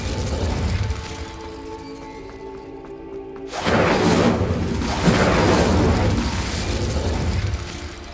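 An Incendio fire spell cast in Hogwarts Legacy: after a quieter stretch, a sudden loud burst and whooshing roar erupts and sustains with crackling pops, no voices.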